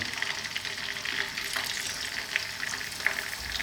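Quail laid into hot cooking oil fry with a loud, dense, continuous sizzle and crackle, steady throughout, with a few pops and no talking; a dish for Italian quail in tomato cream sauce.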